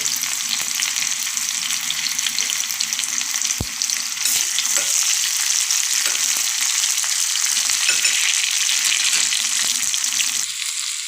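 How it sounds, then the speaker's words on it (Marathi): Chopped onion and fresh, moist grated coconut roast together in a pan, a loud, steady sizzle running throughout with occasional scraping stirs and one sharp clack of the spoon against the pan. "कांदा आणि खोबरं आहे ना दोन्ही मिक्स टाकते भाजून घेते"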